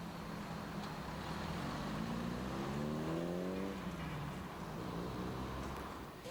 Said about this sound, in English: Paul Carter arrives in his XK140 Coupe, a full race version with 264 brake horse on tap